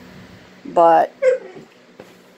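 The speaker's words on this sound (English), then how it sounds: "So, and that's my dog." A dog gives two short, high whimpering whines close by, the first longer than the second, with a person talking around them.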